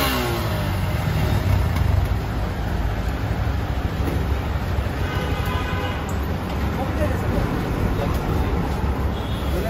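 A motorbike engine runs and revs steadily close by, a continuous dense low rumble for the whole stretch with people talking over it.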